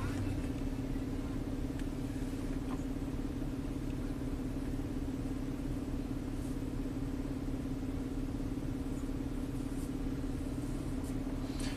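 A Nissan/Infiniti engine idles during an idle relearn after a throttle body cleaning, a steady, low, even hum that runs unbroken from start to finish with no voices.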